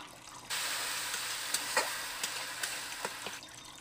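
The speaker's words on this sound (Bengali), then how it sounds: "এবার দিয়ে দেব বাটি ধোয়া জল। জলটা দিয়ে ভালো করে মশলাটা কষিয়ে নেব।" Water from rinsing a bowl is poured into masala frying in a pan, setting off a loud hissing sizzle that carries on steadily with a few sharp pops and clinks of stirring.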